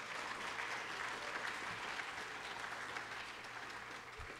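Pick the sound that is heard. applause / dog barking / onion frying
applause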